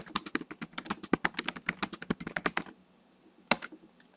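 Typing a git push command on a computer keyboard: a quick run of close, crisp key clicks for about three seconds, a pause, then one final louder keystroke.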